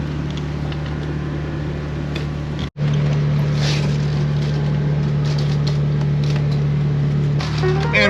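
A vehicle drives out across wet, slushy lake ice near North Bay, Ontario, after several warm days: a steady low engine drone and broad road rumble run continuously, with one brief dropout partway through.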